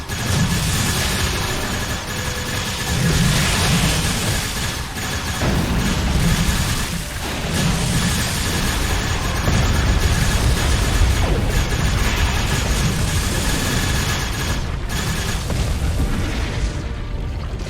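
In the Star Trek Online video game, disruptor weapons fire in a long, dense barrage with booming explosions, heavy low rumble and repeated bursts that carry on continuously with hardly any talk.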